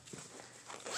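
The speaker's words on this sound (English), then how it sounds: "and then it zips at the top." A zipper drawn along the top of a Vera Bradley tote bag makes one quick, close zip that swells louder toward the end.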